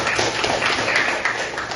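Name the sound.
classroom applause, students clapping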